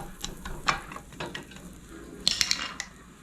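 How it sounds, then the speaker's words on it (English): Bacon heating in a pan gives a soft, steady sizzle and crackle, with a few clinks of utensils against cookware close by and no talking. "I'm just going to heat up the bacon, get it awake a little bit,"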